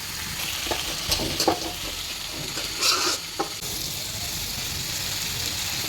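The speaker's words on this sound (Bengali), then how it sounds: "মূলাটা একটু ভালো করে কষে নিই" Radish pieces sautéed in a hot pan, continuous sizzling with a few sharp scraping stirs and spatula knocks near the middle, close up with no talking.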